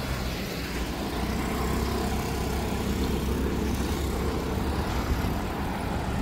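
Low rumbling vehicle engine noise fills the scene continuously as a car pulls up and idles at a farmhouse in Indapur, steady and fairly close with no clear voices over it.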